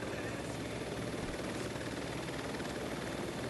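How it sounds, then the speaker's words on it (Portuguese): A drone hovers in Watch Dogs 2, a continuous buzzing, helicopter-like rotor whir that stays steady and fairly faint throughout, with no pauses. "É o teu drone."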